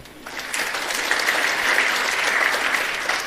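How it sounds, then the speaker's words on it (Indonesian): A congregation claps during a church sermon, a dense burst of applause that rises quickly and holds steady for a few seconds, fairly close and without speech over it. "Tepuk tangan."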